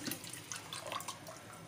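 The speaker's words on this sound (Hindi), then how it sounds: "अब हमने एक पतीले में पानी डाल दिए और घुली हुई चीनी" Water being poured into a cooking pot with dissolved sugar while making mango squash syrup, a steady splashing and trickling flow close by with no talk.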